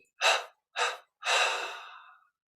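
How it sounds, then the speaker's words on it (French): Deep breathing during guided meditation: a sharp inhale, a second breath, then a long, slowly fading exhale, each clearly separated by silence and close to the microphone. "Puis on inspire profondément. 3 expires pour abandonner les techniques."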